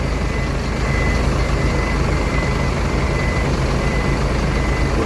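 Sinar Jaya buses, including a Jetbus 3, roll in convoy toward the Merak ferry, a heavy, continuous engine rumble with a repeating high reversing-style beep cutting through at regular intervals.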